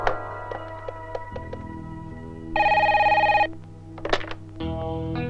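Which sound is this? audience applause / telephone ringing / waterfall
telephone ringing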